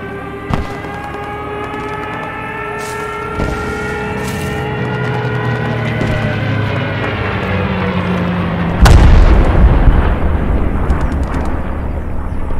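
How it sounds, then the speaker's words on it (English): A bomb explodes in the video game Post Scriptum during a village battle. The single loud, booming blast hits late, over a steady drone of aircraft engines and scattered distant gunfire. "Oh, it dropped a bomb there."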